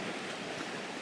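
Waves washing in at a beach, a steady broadband rush of surf, fairly near and moderately loud, with no talk.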